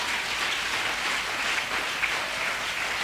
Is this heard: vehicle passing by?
no